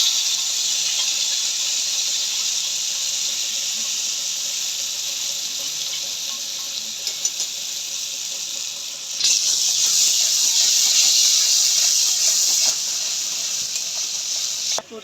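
Spices hitting hot oil for Bengali cholar dal give a steady, close hiss that swells louder partway through and holds, with no talking over it.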